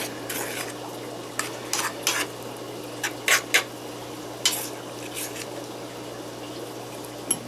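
Apple cider vinegar being stirred into fruit fly culture medium, a series of soft scraping and clicking stirs at an irregular pace, close and quiet over a steady low hum.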